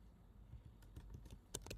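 Keys tapped on a computer keyboard while entering code for a desktop app, a few soft scattered clicks at first building to quicker, sharper strokes near the end, close and quiet with no talk.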